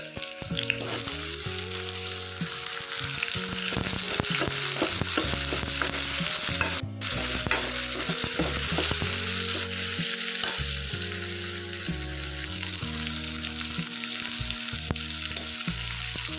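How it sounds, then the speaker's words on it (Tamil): Steady, loud sizzling of onions frying in a pan for a ridge gourd curry, with scraping stirring sounds throughout and no talking. "வெங்காயம் நல்லா வணங்கட்டும். வெங்காயம் வணங்கிடுச்சு, காயை போட்டுடலாம்."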